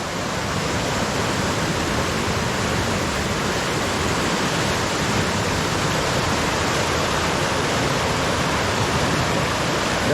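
Floodwater rushes past a stone wall during a flash flood, a loud, unbroken roar of turbulent water close by, steady from start to finish with no talk.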